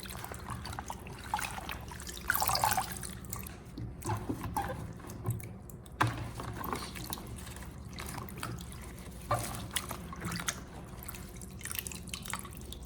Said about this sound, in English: drain the water and rinse the herbs with clean water 2 or 3 more times